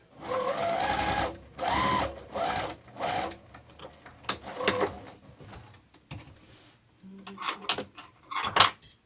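A sewing machine stitching a zipper pouch runs in several bursts of rapid mechanical stitching, starting and stopping, with short quieter pauses and small handling noises in between.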